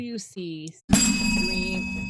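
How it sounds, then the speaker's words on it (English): Brief talking comes first, then a bell strikes sharply and close by, its bright ringing tone holding and slowly fading. "that's the synchronicity bell"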